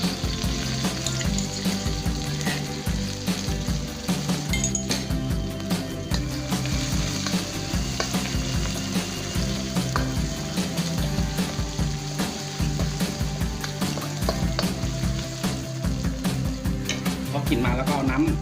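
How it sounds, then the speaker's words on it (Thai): Pounded chili paste is stir-fried in a pan for clams with roasted chili paste, a continuous loud sizzle and crackle with repeated scraping and clanking of a utensil against the pan. "เอาพริกลงไปผัดเลย พริกที่เราพริกที่เราโขลกไว้อะ"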